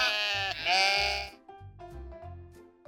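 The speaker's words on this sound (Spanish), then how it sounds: "Este es el sonido que hace una oveja." A sheep bleats loudly and close, several wavering cries in a row with short gaps between them, heard alone.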